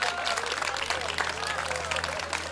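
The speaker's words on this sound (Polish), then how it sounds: "Proszę o gorące, gorące brawa" Warm applause from the crowd at a regional folk feast after a cooking contest prize, loud dense clapping with a steady hum beneath and some voices mixed in.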